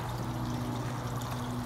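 Water pours steadily onto plants in an aquaponics grow bed during top watering, a soft continuous splash at moderate distance with no voices.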